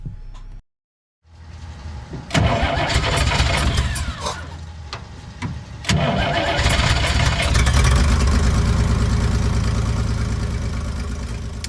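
A car engine cranks after a repair in a weasel-damaged car, stuttering a few times before catching and settling into a loud, steady close-up idle with slight revving.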